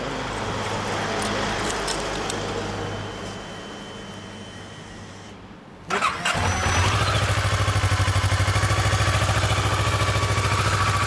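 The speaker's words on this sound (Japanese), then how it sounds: "なんなら、忍者からエンジン音聞かせてくれる？" A 2012 Kawasaki Ninja 400R motorcycle rumbles steadily at first, then goes quiet for a moment before the engine fires up abruptly and settles into a loud, close, even idle.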